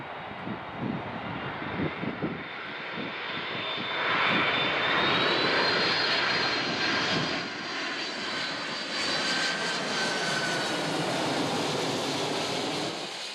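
Lockheed C-5 Galaxy military transport engines, a broad sustained jet roar with a rising whine that swells midway and holds steady, loud and continuous with no talking.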